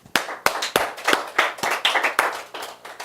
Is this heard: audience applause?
yes